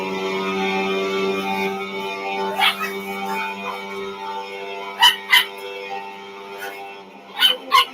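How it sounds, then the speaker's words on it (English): A dog barks a few times in short bursts somewhere in a home, heard over a steady droning racing-game engine and background hum from an F1 24 career mode session. "Let's see why the dog's barking."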